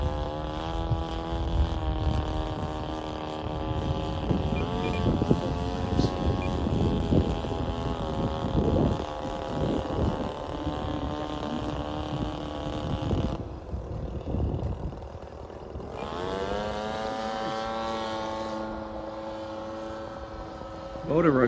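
Seagull Models Shock Cub RC model airplane motor drones through the air in flight, a buzzing whine that rises and falls as it passes, cutting out briefly before surging again, with men chatting over it and some wind noise.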